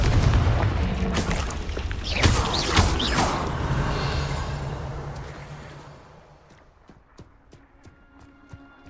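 Loud explosive blasts from a Confringo fire spell in Hogwarts Legacy, a dense roaring burst with sharp cracks that trails off into a quieter tail with scattered small clicks.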